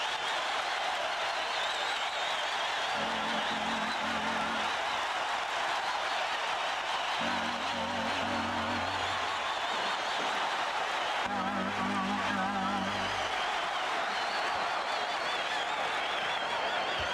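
Crowd noise fills a 1983 Sixers-Bucks playoff basketball arena, a steady wash of cheering and clapping with a few low, brief tonal bursts breaking through it.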